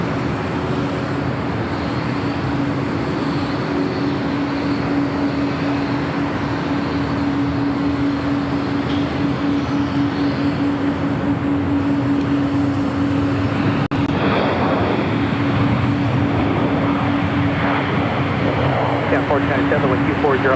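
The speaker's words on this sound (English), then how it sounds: "This flight heading to Honolulu, flight 2390, and this 777-200 with United" A United Boeing 777-200 jet bound for Honolulu departs runway 25 left at LAX, its steady engine roar filling the air throughout while a voice talks over it.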